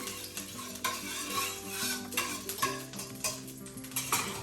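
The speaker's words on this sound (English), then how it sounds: "I'm going to start by putting just a little bit of bacon grease in a hot pan" A little bacon grease sizzles in a hot pan, a close crackling hiss broken by frequent clinks and scrapes of a utensil against the pan, with no talking.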